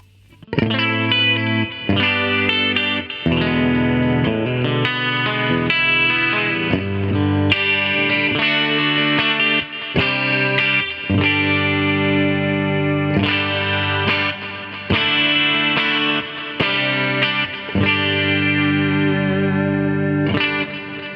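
An electric guitar runs through the AmpliTube 5 plugin with the digital reverb off, alongside EQ and compression, playing a continuous chorused, driven lead of sustained notes and chord hits for about twenty seconds, loud and close.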